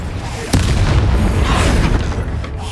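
Explosive spell blast in the video game Hogwarts Legacy: a loud boom at the start of a dense battle, followed by sustained rumbling and crackling bursts of magical combat, with a voice shouting over the action.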